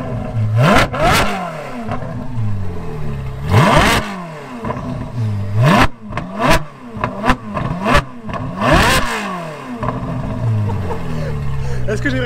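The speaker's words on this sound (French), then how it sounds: "le dernier V8 de fou" The V8 engine of a Ferrari 458 Speciale revs loud and close in a series of sharp, rising blips and roars, with pauses between them, and a few voices talk in between.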